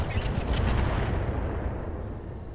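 Mech weapons fire in the Roguetech video game, a burst of rapid booming shots that rumble heavily and then decay into a fading low roar.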